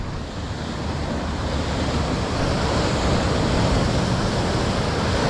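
Ocean waves crash and surge against the rocky shore of Acadia, a loud continuous roar of surf with wind buffeting the microphone, no voices.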